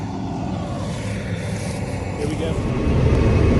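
A John Deere 690 cotton picker engine drones with a low, steady rumble as the machine starts rolling, building slightly louder toward the end, with a brief spoken voice over it.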